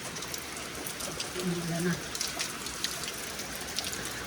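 Steady rain falls outdoors in the Philippines near a broken bridge, a dense close patter with brief voices and a short tonal sound in the middle.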